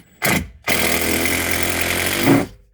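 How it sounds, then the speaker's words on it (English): A power drill drives screws into an attic collar tie during ceiling repair, with a short burst, a brief pause, then a long steady whine that winds down. It sounds close and loud. "So what we're doing here is just running in these screws and reinforcing this collar tie."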